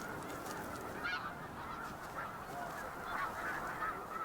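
A flock of geese honks continuously at a distance, overlapping calls rising and falling with no talking.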